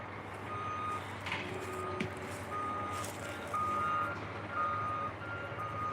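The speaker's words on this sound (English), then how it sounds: "Yep, there's a skid steer." A skid steer works at the demolition of a homeless encampment, its reversing beeper sounding repeatedly over a low diesel engine drone at a moderate distance.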